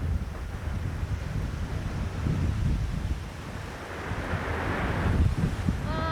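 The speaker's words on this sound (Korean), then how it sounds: "그래서 바람이 불고 있지만은" Strong wind gusts across the open Tasmanian coast, a constant roaring rush buffeting the microphone, with surf breaking below and a brief voice near the end.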